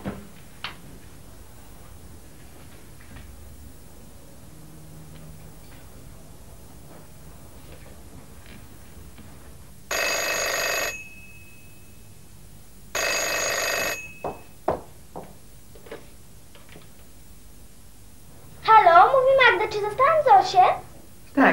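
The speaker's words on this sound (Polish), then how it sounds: "Zosiu, telefon do ciebie." Old-style telephone bell ringing in two distinct bursts, close and clear, amid otherwise quiet room sounds, with a short voiced passage near the end.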